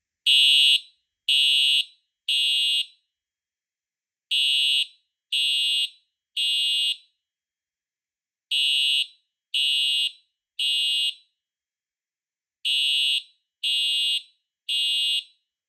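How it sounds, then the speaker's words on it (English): A Simplex TrueAlert horn strobe fire alarm sounds in code 3, four groups of three sharp, loud horn blasts separated by pauses, with nothing else around them. "code 3 is what this horn strobe was meant for"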